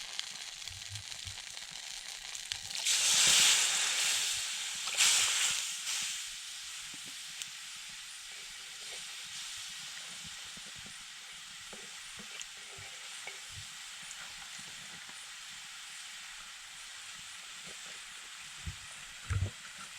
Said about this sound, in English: We forgot to get the spoon, so that's why we are using the stick as a stirrer